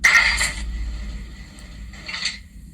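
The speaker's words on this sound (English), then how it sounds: "Coupling." Carriage coupling sound effect from a Hornby HM7000 model railway decoder: two short bursts of metallic clanking about two seconds apart, fairly quiet over a low background hum.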